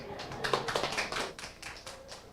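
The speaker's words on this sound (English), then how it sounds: "let's have a round of applause for the panel" An audience at a panel discussion applauds with a short, moderately loud burst of clapping that fades slightly as it goes on.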